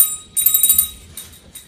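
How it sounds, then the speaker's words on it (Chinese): A small bell for a Christmas decoration jingles in a quick run of about five bright rings, followed by a fainter second shake, close and fairly loud, with no talking. "这个铃铛放在最上面。 叮叮叮，我要发叮叮叮。"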